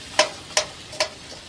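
Masala spice mix frying in a pan: three quick, crisp bursts of sizzling and spatula scraping spaced evenly apart, close and moderately loud, with no voices.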